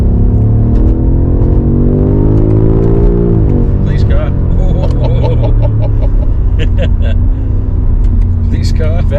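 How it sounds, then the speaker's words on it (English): A BMW M5 Competition pulls away on a wet road, its engine note rising steadily in pitch as it accelerates, heard from inside the cabin with a continuous road roar while people talk over it. "first little pull in the M5"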